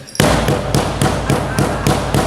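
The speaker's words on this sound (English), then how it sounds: "We call that an up-tempo beat" A Native American drum pounding out an up-tempo fancy dance beat: quick, evenly spaced strikes in a driving pattern, loud and close, played without voices over it.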